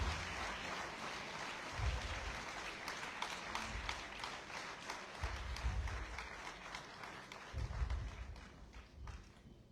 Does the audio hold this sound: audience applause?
yes